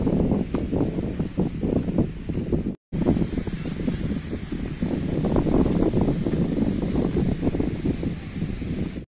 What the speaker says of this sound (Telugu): చూసుకుంటే గాలి ఎక్కువ వస్తుందండి.